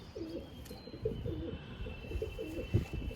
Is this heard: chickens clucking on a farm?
no